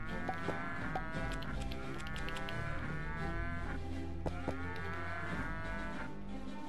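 Cattle lowing in the video game Rock of Ages 2, several deep drawn-out moos overlapping one another amid busy game noise, loud and close, with no talking.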